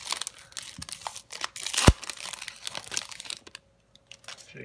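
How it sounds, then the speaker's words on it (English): A foil pack of Panini trading cards torn open up close, with crinkling and crackling foil, a sharp rip in the middle, then softer rustles fading toward silence. "we'll start opening this next pack"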